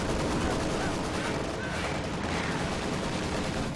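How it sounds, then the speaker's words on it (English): Quad-mount half-track machine guns firing in the video game Company of Heroes 2, a dense, continuous roar of rapid gunfire from start to finish, with a voice talking faintly underneath. "In comes the quad mount half track. Oh, it's shredding those bios."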